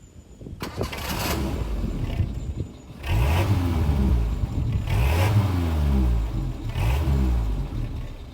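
A Hindustan Ambassador classic car engine heard from outside fires up and revs repeatedly, loud rising and falling roars over a steady rumbling idle.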